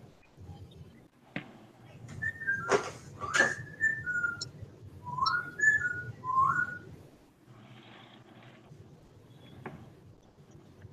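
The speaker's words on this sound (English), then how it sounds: "Oh, that's the birds. He's whistling to Mike saying, come closer, I'm going to bite you" A pet bird whistles in a room, sending out several short, bright whistled phrases in quick bursts over a low background hum. The whistling fades and the room falls quieter.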